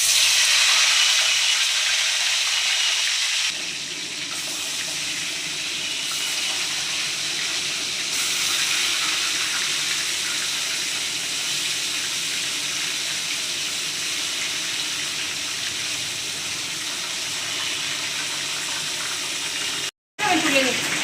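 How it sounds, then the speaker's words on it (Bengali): Salted, turmeric-rubbed fish heads frying one by one in hot oil, a loud continuous hiss and sizzle that softens slightly after a few seconds, then briefly cuts out near the end. "এবার মাছের মাথাগুলো আমি একটা একটা করে ভেজে নেব।"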